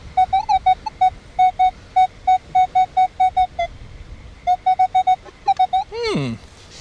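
A Minelab Manticore metal detector sweeping over a rocky beach gives a loud series of short, evenly spaced target beeps, with a pause and then more beeps, ending in a brief rising electronic chirp.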